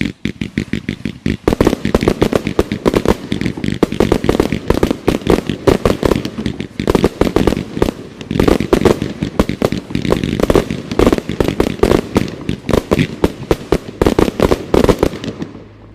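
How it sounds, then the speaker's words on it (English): An 81-shot Z-shaped firework cake with silver whirl tails breaking into blue and red lace, a loud rapid barrage of launch thumps and crackling bursts firing almost continuously for about fourteen seconds, then stopping. "Here's number 20, a 1-1 cake, 81 shot Z-shaped silver whirl tail to blue and red lace."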